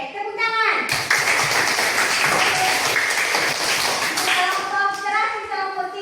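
A classroom of children claps after a group presentation on plant functions, a dense burst of hand claps lasting a few seconds, with a student's voice speaking just before and after.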